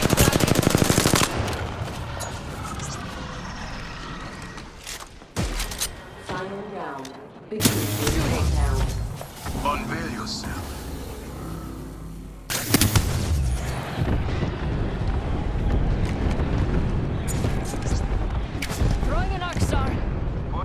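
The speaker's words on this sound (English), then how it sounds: "I'm opening fire." Dense bursts of automatic gunfire in a team shooter match rattle almost nonstop for twenty seconds, punctuated by heavy booming impacts and a few brief lulls between volleys.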